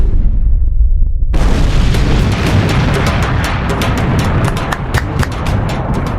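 A sound effect for a supercharged black hole exploding: near-quiet rumble, then a sudden, massive broadband blast. It keeps roaring loudly, with crackling bursts scattered through the sustained boom.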